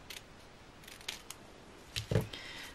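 Scissors trimming a thin strip of plastic to size for homemade goggles, giving a few quiet snips and crisp cuts, with a slightly louder cluster of cuts near the end and no talking.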